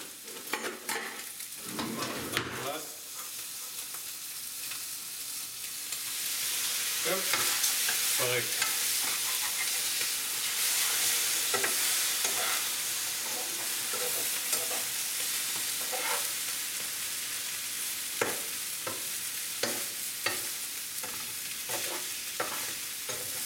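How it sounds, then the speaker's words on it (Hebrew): An omelette with herbs, mushrooms and cheese fries in a pan, giving a steady close sizzle with occasional scraping stirs and taps of a utensil, and no talking. "ניתן לזה עוד כמה שניות של טיגון"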